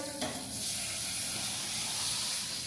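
Dal tempering with spices in a hot pan, a steady loud sizzle and hiss with stirring scrapes, continuous and close throughout.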